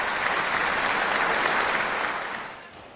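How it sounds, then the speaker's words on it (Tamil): Audience clapping welcomes a speaker to the stage at an Independence Day special debate, a loud, dense burst of applause that holds for two seconds and then quickly dies away. "ஆரூர் சினேகா அவர்கள் வருகிறார் உங்கள் கைத்தட்டலோடு"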